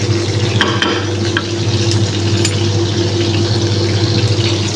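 Fish frying in a pan gives off a steady, loud, close sizzle that lasts the whole time, with a few faint clinks on top and no talking.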